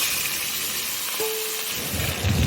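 Kachur shak greens, grated coconut and ground cumin go into a hot, sizzling tempering of spices for a vegetarian chickpea dish, giving a steady, loud frying hiss with a brief tone and a slight stir-scrape near the end.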